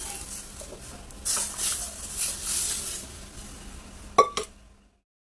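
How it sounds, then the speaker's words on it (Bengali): Spices crackling in a pan as dal gets its tempering in a home kitchen, a run of soft sizzling and stirring bursts followed by a couple of sharp metallic clinks near the end, then quiet. "এবারে ডালটা আমি ফোড়ন দেবো"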